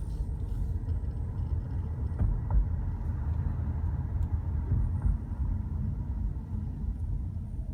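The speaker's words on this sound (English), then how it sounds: "All you really hear is road noise." Road noise fills the cabin of a Ford Fusion Energi plug-in hybrid running on its electric motor with the windows down, a steady low rumble of tires and wind with no engine sound and no talking.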